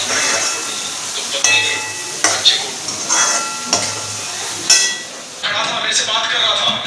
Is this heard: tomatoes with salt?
yes